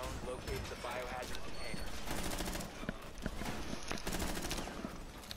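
Sustained automatic gunfire rattles through a full magazine in a ranked online shooter match, dense rapid bursts filling the clip with a mechanical clatter, with voices talking over and around the shooting.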